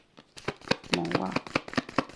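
Tarot cards are drawn and shuffled from a deck in quick papery flicks and slaps, close up, while someone speaks briefly in the middle.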